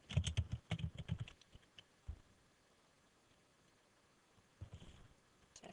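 Bursts of quick keystrokes on a computer keyboard, a dense flurry of close clicks, then a pause and a single tap, with another short run of keys near the end.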